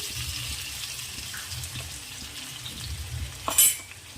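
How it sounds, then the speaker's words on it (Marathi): Ivy gourd (tondli) fries in a spoonful of oil in a kadhai, giving a soft, steady sizzle with faint crackles and a brief louder scrape near the end. "त्या तेलामध्ये आपण आधी तोंडली फ्राय करून घेऊ"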